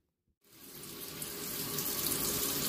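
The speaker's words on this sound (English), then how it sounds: "So I'm gonna add some water onto this pot as well." Water pours from a tap into a cooking pot for soup, starting abruptly after a brief silence and running as a steady, rising splash and hiss until the end.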